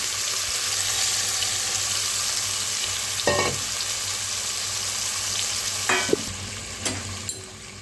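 Hilsa fish with ground black cumin paste frying in a pan, giving a steady close sizzle and crackle with a few spatula scrapes and clinks toward the end.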